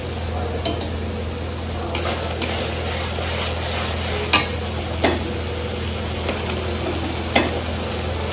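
Food fries in a pan on a home stove, giving an even sizzle throughout. A utensil scrapes and taps against the pan now and then, making a few sharp clinks as the food is stirred, and a low steady hum sits beneath it.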